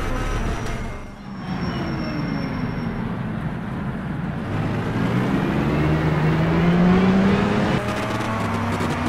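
Historic racing cars lap the track at Longford during a historic racing car championship round, a steady loud engine roar with rising drone as a car passes close, no voices.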